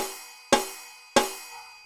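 Two loud stacked hits on a Yamaha DTXM12 drum pad, each layering snare drum, splash cymbal, cowbell and triangle into one sharp crash with a ringing metallic decay, spaced about half a second apart.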